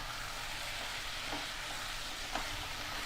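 Cauliflower curry masala sizzles steadily in a pan while being stirred, a soft continuous frying hiss with a couple of faint scraping stirs.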